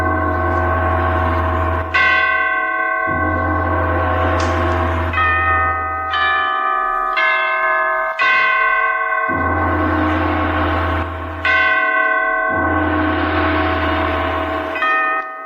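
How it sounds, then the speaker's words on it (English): Great church bells of St. Petersburg toll a requiem, loud, resonant strokes ringing in a slow, overlapping sequence with long humming decays, heard alone. "the great bells of St. Petersburg tolled their requiem"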